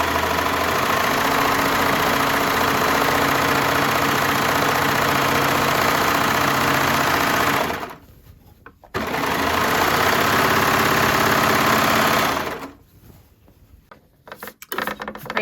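A serger overlocks the seam of a McCall's 8358 wrap dress, running as a loud, steady mechanical whir that stops briefly around eight seconds, then resumes before trailing off near the end.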